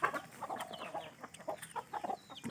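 A farmyard hen clucks in short, soft, irregular bursts, fairly close and quiet, with faint background noise and no talk.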